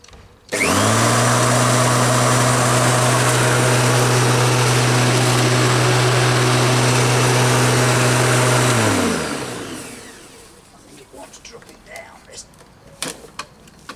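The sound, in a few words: electric lawn mower motor running during repair test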